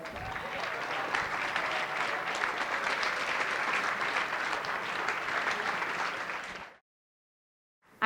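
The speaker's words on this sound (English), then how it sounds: "Let's give him a round of applause." Wedding reception guests applaud after a toast, with steady, dense clapping from a room full of people lasting several seconds before cutting off abruptly into silence.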